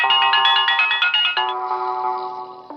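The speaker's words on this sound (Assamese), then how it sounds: "পাৰিজাতে ফোন কৰিছে" A bright electronic phone ringtone plays a quick repeating melody, loud and close, then shifts to a steadier tone before cutting off.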